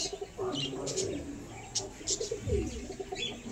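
Pigeons cooing at home, soft repeated throaty coos with a few chirps, close by and steady, a faint voice now and then underneath.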